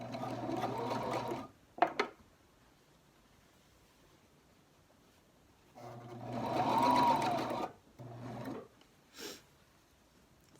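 A home sewing machine stitches the folded edges of a pleated fabric face mask in two bursts, a longer whirring run at the start and another later, separated by quiet handling with a few short stitches.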